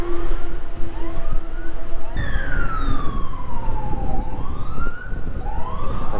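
A police car siren wails loudly as it passes on a rainy day, its rising and falling tone sweeping over steady traffic noise, with brief talk underneath.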